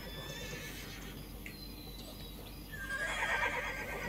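Horse neighs and whinnies in the Horse World video game, with a brighter whinny rising near the end over steady background game ambience; no talking.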